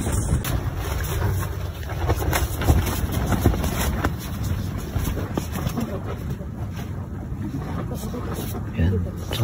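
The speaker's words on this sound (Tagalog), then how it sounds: "ang lakas lang ng hangin." Strong gusting wind batters a tent at a cold mountain campsite by Lake Tabeo on Mt. Pulag, roaring loudly and buffeting the microphone throughout, with a person talking underneath.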